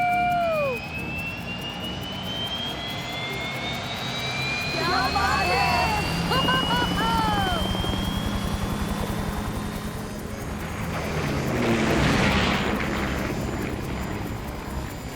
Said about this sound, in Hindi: हम एक हेलीकॉप्टर में हैं।